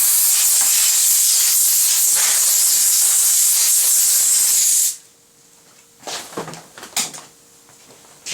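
Compressed air blasts in a steady loud hiss for about five seconds while drying a peeling snowboard during repair, then cuts off, followed by a few short bumps and handling noises.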